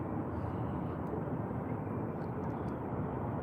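An airplane descending toward Sky Harbor International Airport over downtown Tempe at night, a steady, broad engine roar heard from a distance that holds constant throughout without clear peaks or fading.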